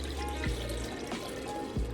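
Thick coffee DHT blocker herbal treatment shampoo is poured into a measuring cup, giving a soft, steady liquid trickle with faint glugs, quiet and close with no talking.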